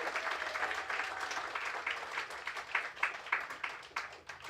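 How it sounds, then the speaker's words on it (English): Audience applause at a youth leadership breakfast event, moderate and fairly steady clapping with some sharper individual claps standing out, slightly distant in the room. "Let's give him another round of applause."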